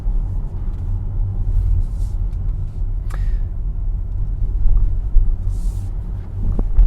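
A Hyundai IONIQ 5 electric car driving, heard from inside as a steady low road rumble with some wind noise, fairly loud and continuous, with no voices.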